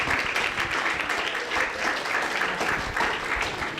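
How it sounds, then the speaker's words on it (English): An audience applauds at a university debate event on water rights, a steady, dense wash of clapping that holds at even loudness for the whole stretch, with no voices standing out. "we can all applaud for that"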